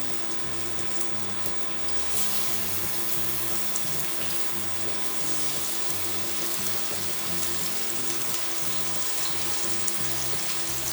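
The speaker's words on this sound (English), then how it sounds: "When the oil's hot, you can add your sausage patties to the skillet." Turkey breakfast sausage patties frying in hot oil in a skillet give a steady, dense sizzle. It rises sharply about two seconds in and holds close and even until the end, with no talking.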